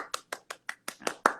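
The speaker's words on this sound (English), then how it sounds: "I'm just going to take my own applause for all of the actors" A lone person applauds at a Coriolanus reunion watchalong: about eight sharp, close handclaps in quick succession, growing slightly louder and faster toward the end, with no voices over them.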